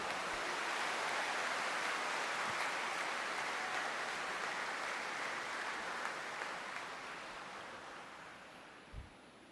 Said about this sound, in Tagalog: Mas malakas pang palakpak.